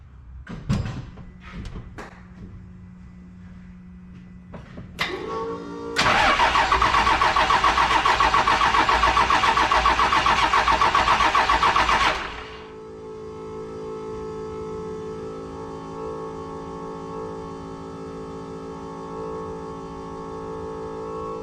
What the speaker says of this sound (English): I'm just going to crank it over just a little bit so that we can make sure everything is where we want it to be